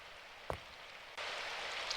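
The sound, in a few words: rain sound effect from video game Symphonic Rain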